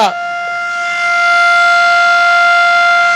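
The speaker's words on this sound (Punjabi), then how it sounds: "ਜਿਹੜਾ ਘੁੱਗੂ ਵੱਜਦਾ ਪਿਆ ਜੀ ਸਾਇਰਨ ਵੱਜਦਾ ਪਿਆ" Blackout siren wailing at a sugar mill in Nawanshahr, heard from close by: a loud, steady, sustained tone that rises in at the start and holds without a break.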